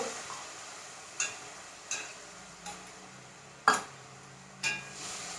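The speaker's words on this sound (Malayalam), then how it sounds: "ഈ ശർക്കര പാവ് വെച്ചിട്ടുണ്ടല്ലോ അതങ്ങോട്ട് ഒഴിച്ചു കൊടുക്കാം" Beaten rice is stirred in a pan with poured jaggery syrup for a sweet aval vilayichathu, giving a few sharp scraping clicks of the spoon over a faint low sizzle. The sound is quiet and close, with no voices.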